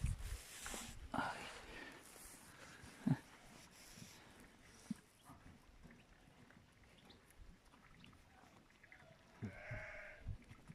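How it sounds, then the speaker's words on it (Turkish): Sheep bleating from inside a barn or pen, faint and distant, with a few short calls standing out over low background noise and quiet talk. "Koyun meledi ya içeriden."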